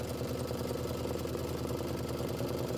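A Kimberbell embroidery machine stitches out a Home Sewn Volume 2 July quilt block in steady, continuous mechanical whirring with a fast regular needle rhythm, close and constant throughout.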